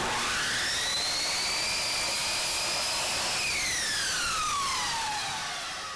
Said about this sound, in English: We position the molding with the bottom touching the fence and make our cut.